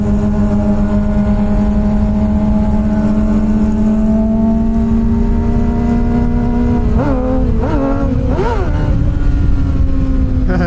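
A Suzuki GSX-R sport motorcycle engine runs loud and steady close by, its pitch slowly rising, then blipped through several quick revs near the end.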